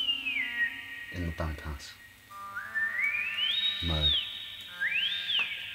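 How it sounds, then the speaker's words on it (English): An Oskar Sala Mixtur-Trautonium formant filter set to full resonance sings out a prominent sine tone that sweeps up and down in slow, smooth glides, with someone talking over part of it. "If we crank the resonance up all the way, you'll notice that the sine wave becomes more prominent"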